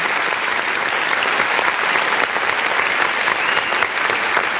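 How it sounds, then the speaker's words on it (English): Loud, dense applause from a crowd, steady clapping throughout with no pauses. "Let's hit the clap button first."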